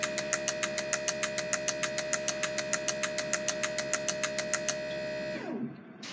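An ASNU injector tester simulating engine cranking at 200 RPM pulses in a fast, even rhythmic ticking over a steady mechanical drone, loud and close, then the pulsing stops and the drone winds down.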